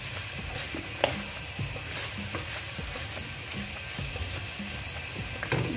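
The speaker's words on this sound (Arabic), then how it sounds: "ها هي معلقه ديال الثومه عامره، وغادي نخلي تشحر واحد شويه" A spoonful of garlic sizzles steadily in a pan while cooking tripe for a Moroccan Eid dish, with a constant frying hiss, occasional utensil scrapes and light clicks, close and moderately quiet.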